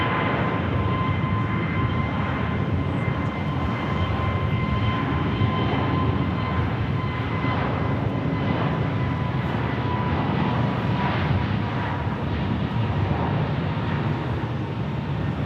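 Airbus A321neo jet airliner at an airport: a loud, continuous engine roar with a steady whine, sustained throughout and close to the listener, no speech.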